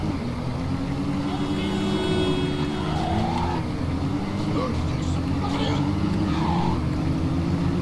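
An orange Toyota Supra races in Midnight Club 2, its engine droning steadily and continuously beneath someone talking throughout.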